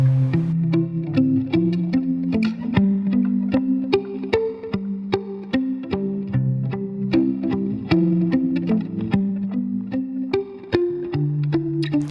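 Short, plucked notes from a Stella guitar muted with a rubber tube, damped with quick decay, play a busy melodic solo line, double-tracked and panned hard left and right into a thick layered sound, steady and fairly loud.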